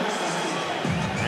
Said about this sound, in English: Crowd responding positively, as they have all night, to a great night of fights in Queens.